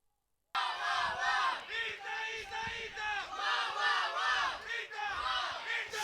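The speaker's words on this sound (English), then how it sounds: "So you can hear the crowd chanting for their team." A crowd at a European Youth Cup team archery final chants loudly for their team in rhythmic, repeated bursts, near and sustained, after a brief moment of silence.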